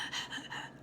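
Someone demonstrates anxious breathing with a few quick, shallow, gasping breaths close to the microphone.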